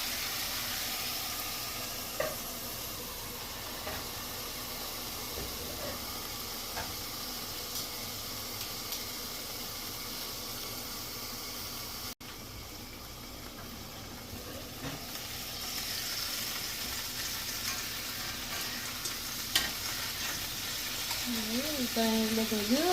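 A king oyster mushroom steak sears in a hot pan, a steady moderate sizzle and hiss that briefly drops away midway and then returns, with a voice murmuring faintly near the end.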